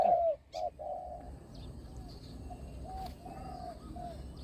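A trained spotted dove with a large voice gives a series of soft, low coos, near but faint over a quiet outdoor background, with a brief chirp mixed in.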